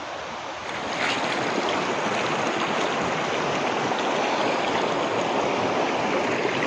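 A steady, rushing mountain stream flows continuously and close by on a wild trail in Val Venzonassa, Italy, starting slightly quieter and then holding an even, full roar.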